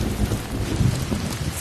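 Steady rain pours down in a continuous dense hiss with a low rumble underneath, loud and close, without any voices.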